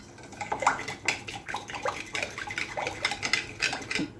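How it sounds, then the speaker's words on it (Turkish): Olive oil and thyme stirred in a bowl with a spoon, a steady run of quick clinks and scrapes against the bowl, close and fairly loud with no talking. "Evet şimdi bu şekilde bunu şöyle bir karıştırdım."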